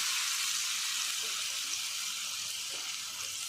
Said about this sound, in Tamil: இப்போ நம்ம மீன் வறுக்க போகிறோம்